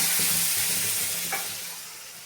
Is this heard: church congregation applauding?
no